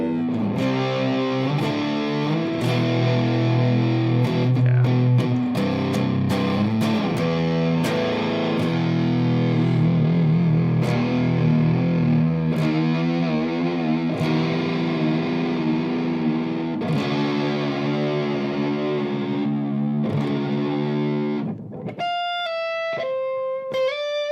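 Distorted electric guitar chords ring out continuously through an effects pedal, the tone wavering slightly, ending with a few clean high picked notes.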